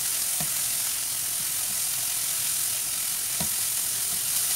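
Onion and garlic fry in a very hot pan while being stirred: a constant loud hiss fills the whole clip, with two brief scraping knocks of a utensil against the pan.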